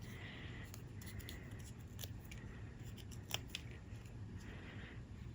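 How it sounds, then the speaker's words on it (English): Scissors snipping through card stock at a stamping craft table, a quick series of close, crisp, faint cutting clicks spread across a few seconds in a quiet room. "now let's use my scissors and cut that off"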